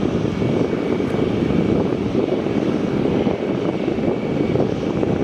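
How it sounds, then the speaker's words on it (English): Jet airliner engines at Melbourne Airport, a China Southern plane preparing to taxi after pushback, a loud steady roar close by with no talk. "So this China Southern should be taxiing shortly."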